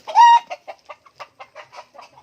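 A rooster lets out a loud drawn call, followed by a quick run of short clucks from chickens close by.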